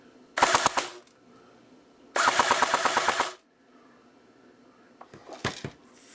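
A T3 .30 caliber airsoft gun fires .25 BBs on full auto in three bursts, a close, rapid rattling of individual shots, the longest burst lasting about a second, with quiet pauses between.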